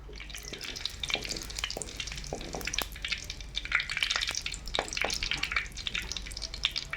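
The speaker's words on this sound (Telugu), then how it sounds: "నూనె కాగింది, ముందుగా జీలకర్ర వేస్తున్నా" Cumin seeds sizzling in hot oil in a pan, a steady close crackle with dense popping and spitting, constant and alone with no voice.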